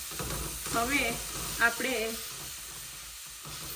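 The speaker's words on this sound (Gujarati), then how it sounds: "સોલ્ટ એડ કર્યા પછી આપણે થોડું મિક્સ કરતા રહીશું." Methi leaves and gram flour curry sizzling and frying in a pan while being stirred, a steady soft hiss running under a person talking.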